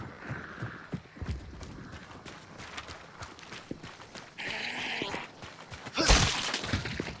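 Horses clip-clop and shuffle in Hunt: Showdown, hooves thudding irregularly amid clanks and a brief louder burst, moderately close without talk.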